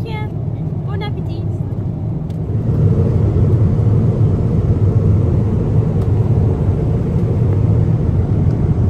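Airplane cabin noise on a long-haul flight: a steady low rumbling engine drone fills the clip, growing louder after a few seconds, with people talking over it.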